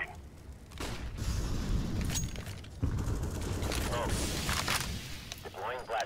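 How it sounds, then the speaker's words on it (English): Flashbang grenade thrown during a CS:GO match: a metallic clink and rattle of the grenade mechanism, then bursts of gunfire and clatter under a short radio voice line. "Deploying flashbang."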